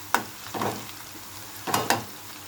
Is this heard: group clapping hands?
no